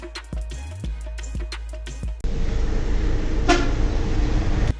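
A truck on a Japanese expressway gives a short honk, heard once over loud, close road and engine rumble. Steady tones play before it.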